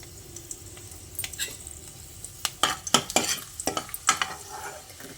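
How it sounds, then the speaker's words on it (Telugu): Dried red chillies are tempered in hot oil for a tomato pickle, with a spoon scraping and stirring in bursts of clinks and scrapes over a soft background sizzle, close and fairly quiet, without talk. "పోపు వేసుకుందాం పచ్చడిని. దానికి కావాల్సింది ఫస్ట్ ఎండుమిర్చి"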